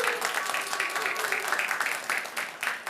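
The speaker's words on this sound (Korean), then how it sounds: "감사의 박수." A church congregation at Sunday worship gives a round of thanks applause, steady close clapping for about three seconds with a faint voice beneath.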